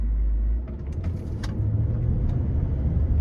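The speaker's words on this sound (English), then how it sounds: "what we're doing by going 0 to 30 and light braking to a standstill" A Range Rover just fitted with new brake pads after seized brakes rolls along and brakes lightly to a standstill: a loud, close, low engine and road rumble that eases slightly, then holds steady.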